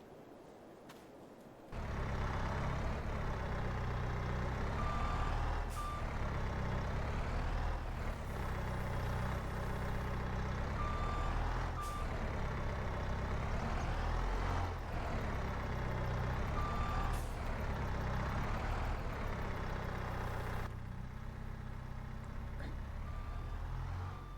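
A skid steer in Farming Simulator 22, on a job removing an old swimming pool, gives a steady train of electronic reversing beeps over a constant engine drone, evenly spaced and sustained for most of the stretch.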